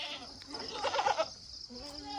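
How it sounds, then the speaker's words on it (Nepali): Goats and castrated male goats bleat in a Nepali village farmyard, a few short wavering calls rising close by with one louder burst mid-clip, over faint background noise. "यो चाहिँ खसी र बोका"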